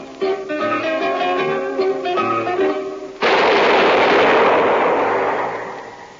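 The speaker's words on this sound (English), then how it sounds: "That was the shot that killed Harry Lime." Gunshot sound effect in an old-time radio crime drama, a single sharp shot with a long decaying boom that follows a passage of music.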